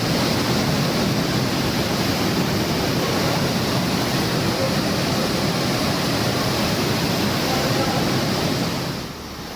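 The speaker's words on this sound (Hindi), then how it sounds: "ये मटमैला पानी सब कुछ बहा ले जाने के लिए बेताब नजर आ रहा है।" Muddy floodwater rushes after heavy rains, a loud, dense, continuous roar that stays steady throughout and drops off slightly at the very end, with no voices.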